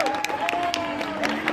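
Audience applause at a Comic-Con cosplay masquerade, dense continuous clapping mixed with crowd noise and a sustained tone underneath, with voices talking over it throughout.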